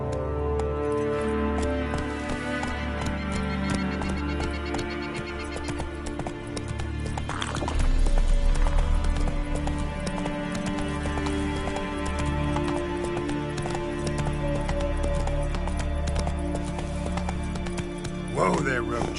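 Roach, the horse in The Witcher III, gallops with a rapid, continuous clip-clop of hooves under game music and ambience, the pace shifting briefly midway, close and loud throughout.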